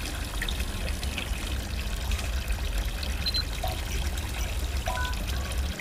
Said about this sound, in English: I hear water. I hear water.